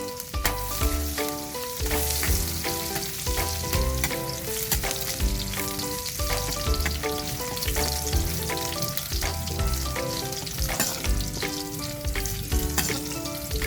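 Garlic sautés in a pan for pinakbet, a steady loud sizzle with occasional stirring scrapes over background music.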